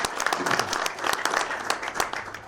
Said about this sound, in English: Mike Doherty deserves a round of applause